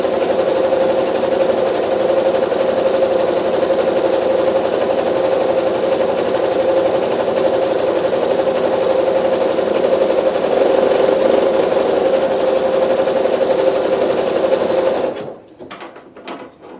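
A sewing machine runs steadily for about fifteen seconds, stitching trim down along a fabric fold with an even, close mechanical whir, then stops abruptly.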